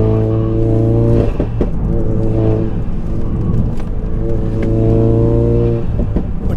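A 430bhp Ford Focus RS estate pulling hard under acceleration, a loud close engine note climbing through the revs, dipping at a gear change, then rising again in a continuous strong drone.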